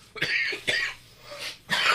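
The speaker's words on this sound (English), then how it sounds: "Me coughing?" Three or four harsh coughs in quick succession, close and fairly loud, with brief pauses between them.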